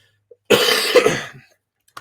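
A single loud, harsh cough burst from a man recovering from illness, lasting most of a second, close to the microphone, followed by silence.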